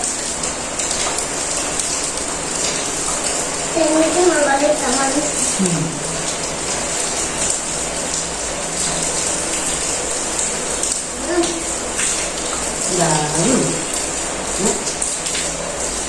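Steady rain falls on a wetland village, a constant wash of drops on surfaces, with faint voices talking in the background.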